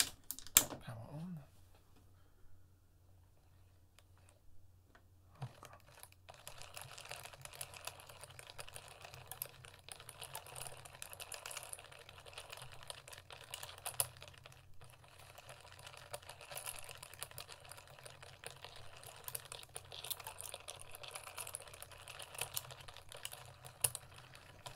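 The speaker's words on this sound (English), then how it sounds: "I hadn't actually run the motor properly in over a month, and it's sounding a little bit cranky" A small motor turns gears and a crankshaft after a month unused, sounding a little rough, a quiet rapid clattering whir that starts after a few seconds and keeps on steadily with faint irregular ticks.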